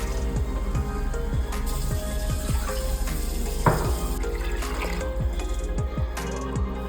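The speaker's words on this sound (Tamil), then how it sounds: "இப்போ மறுபடியும் 300 ml தண்ணி ஊற்றிருக்கீங்க." Water poured into a pot of Ambur biryani, a continuous pouring and splashing flow, moderately loud and steady without talk.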